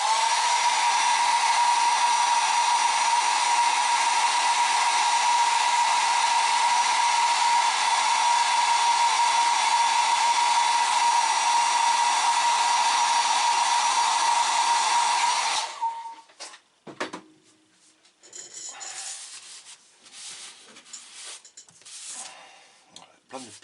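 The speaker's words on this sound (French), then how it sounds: "Mais moi j'aurai le bruit du sèche-cheveux." A hair dryer blows steadily on a BMW M6 GT3 scale model, a loud close whine with a constant tone for about fifteen seconds, then it switches off, leaving faint handling noises and speech.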